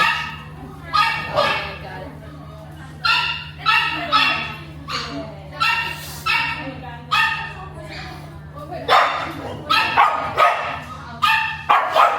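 Dogs bark and yip repeatedly at a dog cafe in China, where several white dogs and a golden retriever are present. The barking comes in close, loud bursts among people talking, with a steady low hum running underneath.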